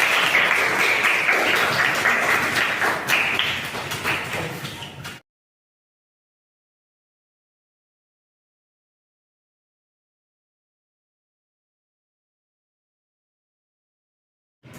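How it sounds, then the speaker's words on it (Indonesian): Students in a classroom mathematics lesson clap for themselves, a short burst of group applause lasting about five seconds before cutting to silence. "tepuk tangan untuk kalian semua"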